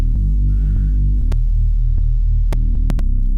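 A sample run through FL Studio's Amigo sampler and saturation gives a thick, distorted low throb with a steady hum, broken by a few sharp clicks, loud and alone.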